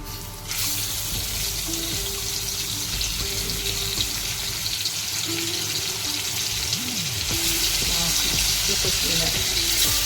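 Stuffed squid (makli) laid into hot garlic tempering in a pan, giving a steady, close frying sizzle that runs the whole time with light clatter, and no one talking.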